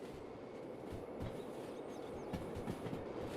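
A train climbing a slope in the railway game Derail Valley, pulled by four locomotives. The rolling rumble is steady and moderately loud, with rhythmic clickety-clack wheel knocks running through it, and nobody speaks.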